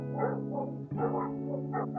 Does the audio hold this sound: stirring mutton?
no